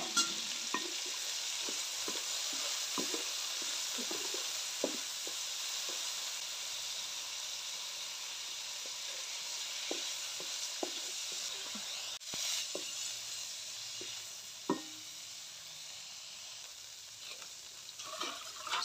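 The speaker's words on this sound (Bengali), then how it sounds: "সবজিগুলো যখন ভাজা ভাজা হচ্ছে" Vegetables frying in oil in a kadai give a constant soft sizzle and hiss, broken by frequent light stirring clicks and scrapes, with no voices.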